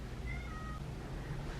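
A pet cat named Tibbs gives a single short meow, fairly quiet and close, over a low room hum with no talking.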